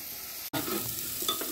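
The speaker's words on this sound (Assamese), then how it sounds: "এই দাইলখিনিৰ লগতে ওলকবি, আলু আৰু বিলাহী এড কৰিলোঁ, আৰু এইখিনি মই অকণমান সময় ভাজি ল'ম" Dal with kohlrabi, potato and tomato stirred and frying in a pan, a steady close crackle and scrape of utensil against metal after a brief cut, with no talk.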